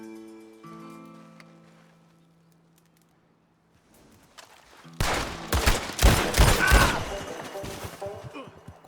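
Gunfire in Red Dead Redemption 2 survival mode: after a quiet stretch with a faint tonal hum, a sudden burst of loud rapid shots erupts and keeps cracking in a dense volley to the end.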